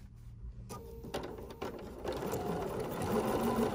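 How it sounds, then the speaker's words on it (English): A sewing machine stitches fabric for a butterfly basket, starting after a brief quiet pause and running as a fast, steady mechanical whir with rhythmic clatter, close by and growing slightly louder. "Now I'm gonna leave an opening and just sew for like an inch or so here, just like this"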